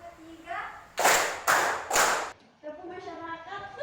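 A classroom group claps along in a counting clapping game, three loud sharp clap bursts in quick succession between the teacher's chanted voice and children's voices.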